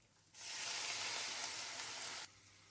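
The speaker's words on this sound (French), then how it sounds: "Je vais venir déglacer mes oignons avec un peu de vin blanc" White wine poured over onions in a hot pan, a sudden loud hiss and sizzle bursting up, holding for about two seconds, then cutting off sharply.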